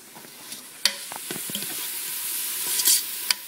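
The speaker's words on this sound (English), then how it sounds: "We're just going to stir this." Beef for pulled BBQ sandwiches sautés in a hot pan, a steady close sizzle broken by sharp spatula knocks and scraping stirs at irregular moments.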